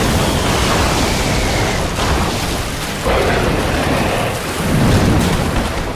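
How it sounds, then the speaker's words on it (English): A monster in Dark Souls breathes lightning, a loud, dense crackling roar that rolls continuously, with surges as fresh bursts hit the ground. "It breathes lightning, which stays on the ground for a couple seconds."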